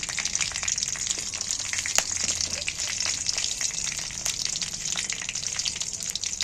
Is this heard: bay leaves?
yes